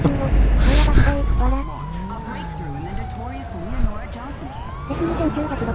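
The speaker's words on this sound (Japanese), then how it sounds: "あ、パトカーだ。" A police car siren in the GTA 5 video game, a wailing tone sweeping up and down behind engine and car noise, with someone talking over it.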